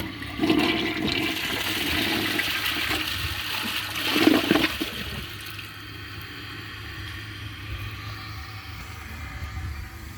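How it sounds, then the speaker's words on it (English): A 2014 Mansfield Pro-Fit toilet flushes a washcloth with a loud rushing gush of water that peaks early, then settles into the quieter hiss and trickle of the tank refilling. "let's give it a flush and see if it can take a washcloth"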